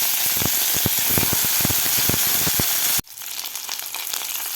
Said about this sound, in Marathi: तेल आपलं गरम झालेलं आहे, तर यामध्ये आपल्याला आता हे कापून घेतलेले वांगे घालायचे आहेत.